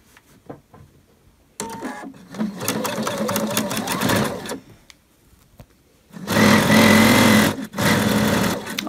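A sewing machine stitches a seam on homemade pluderbukser trousers, running in two bursts of steady, close mechanical whirring separated by a pause, with faint handling clicks between.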